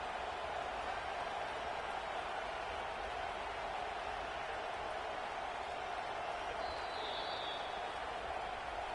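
An Auburn college football stadium crowd on third down makes a steady, distant wash of roar and hiss that stays even throughout, with no clear voices on top.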